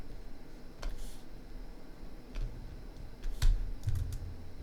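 Computer keyboard keys are pressed while working in ZBrush, giving a few sparse, soft clicks and taps against quiet room noise, with no talking.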